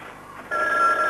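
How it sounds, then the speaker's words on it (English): A telephone rings, its electronic tone starting abruptly halfway through over a quiet background hum. "Answer the phone."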